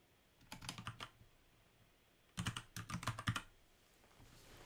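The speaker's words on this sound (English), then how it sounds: "I'm typing on the computer" Bursts of rapid clacking keystrokes on a computer keyboard, close and crisp, come in two short runs separated by a quiet pause, with no voices.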